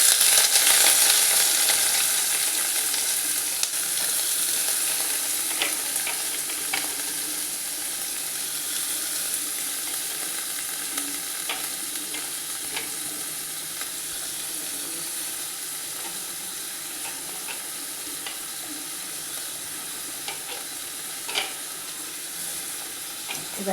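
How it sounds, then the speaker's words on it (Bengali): Onions fry in hot oil in a pan, a loud steady sizzle that starts strong and gradually softens over time, with occasional light crackles and small scrapes. "দেখুন, তেলটা গরম হয়ে গেছে, আমি পেঁয়াজটা দিয়ে দিচ্ছি।"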